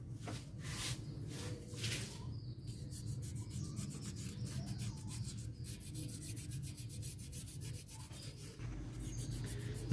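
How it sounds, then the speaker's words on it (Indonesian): Steady abrasive rubbing of fine sandpaper on a Suzuki Baleno 1.5 engine, continuous back-and-forth scratching with a soft rasping texture, close by and moderately loud. "nanti bisa kita lanjutkan dengan menggunakan amplas halus"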